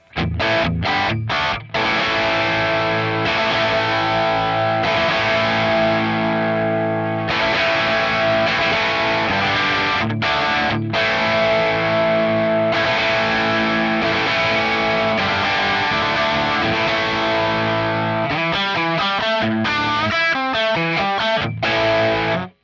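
A loud, distorted electric guitar through a Fender Twin-style amp model with sag turned off plays sustained chords with sharp, punchy attacks, ending in a quick run of stabbed notes; no talking.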